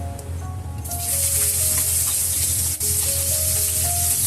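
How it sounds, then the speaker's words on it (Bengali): Onion and chili hit hot oil in a wok and burst into a loud, continuous sizzle that jumps up after a second and holds steady, with a brief dip partway through. "আমি হচ্ছে এ পর্যায়ে পেঁয়াজ মরিচটা একটু ভালোভাবে ভেজে নিব"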